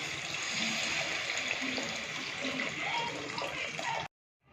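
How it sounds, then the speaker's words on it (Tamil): Tamarind water pours from a vessel into a pan of Madras-style fish curry, a close, steady gushing trickle for about four seconds that cuts off abruptly. "அடுத்தது நம்ம புளி தண்ணி ஊற்றிக்குவோம்."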